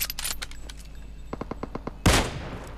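Gunfire in the mobile battle royale BGMI, a rapid run of crisp shots followed by a few spaced cracks and one loud sniper-like blast that rings out and fades.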